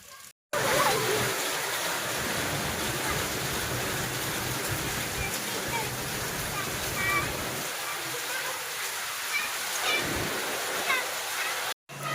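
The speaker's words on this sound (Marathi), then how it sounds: "खूप दिवसांनी भरपूर असा मोठा पाऊस पडतोय" Heavy rain pours down with water running off a roof gutter, a dense continuous rush and splatter close by, with a voice talking over it at moments.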